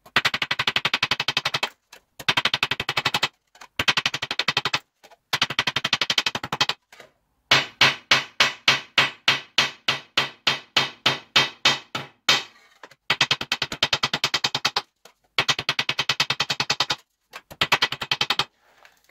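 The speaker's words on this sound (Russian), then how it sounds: "Когда проходим второй круг, угол удара молотком меняем." A hammer strikes tin sheet metal while forming a three-part elbow, giving loud, sharp, rapid metallic blows in dense bursts separated by short pauses, with a steadier, evenly spaced run of hits in the middle.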